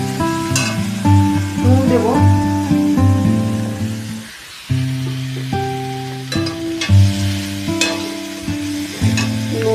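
Soybean chunks, pointed gourd and potato with spices stirred in a hot pan, a steady sizzle with repeated scraping strokes of a spoon, loud and close throughout.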